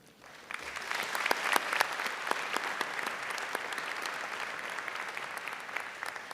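Sustained applause from a large audience at a business school commencement ceremony, steady clapping that swells quickly and holds loud throughout.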